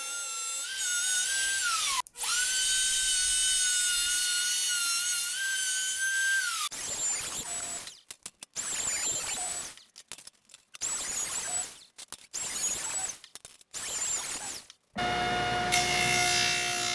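A power tool cuts dados into reclaimed-wood top and bottom cabinet panels for a TV console. It starts as a loud, steady high whine for several seconds, then comes in short choppy bursts separated by brief gaps.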